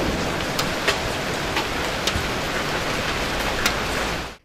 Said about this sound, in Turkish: Bir anda bastıran şiddetli yağmur ve doludan göz gözü görmedi.